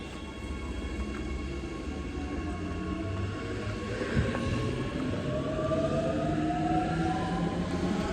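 Two suburban passenger trains, SMU246 and SMU247, pull out of a station, their steady rumble and rising motor whine sustained and fairly close throughout.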